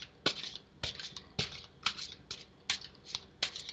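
A deck of mermaid tarot cards is shuffled by hand in quick riffling bursts, about eight crisp flutters at a fairly even rhythm, close and clear with no voices.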